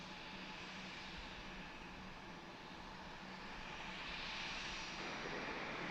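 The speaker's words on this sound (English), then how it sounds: "Allegiant looks like they're heading out" An Allegiant airliner departing Harrisburg International Airport, a distant broadband jet engine roar that swells steadily as it heads out, with no voices.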